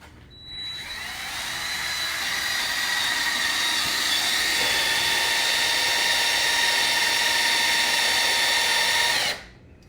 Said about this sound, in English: So I'm just going to finish this off by pre-drilling.